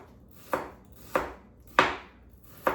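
A knife chops a shallot on a cutting board with four evenly spaced, close, solid thunks about half a second apart, each ending in a short rattle, with no voices.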